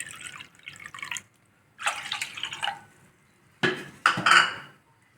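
About 2.5 cups of water poured into a kadai for cooking, heard as three separate splashing pours with brief quiet gaps, close and clear with no talking.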